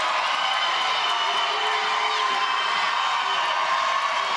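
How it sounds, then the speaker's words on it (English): Crowd at a martial arts team tournament roaring and cheering with whoops and shouts, a dense, loud, continuous wall of voices filling the hall. "The crowd is going crazy."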